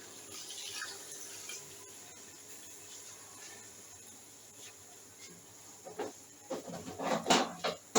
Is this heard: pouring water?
yes